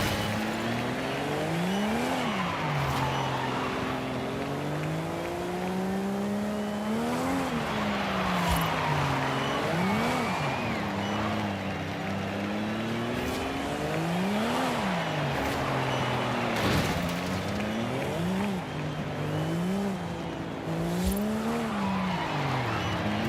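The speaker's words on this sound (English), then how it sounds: "this was a perfect drift, to be honest" A car drifts in Forza Horizon 5, its engine rising and falling through repeated revs while tires squeal steadily underneath, a continuous sliding run with no voices.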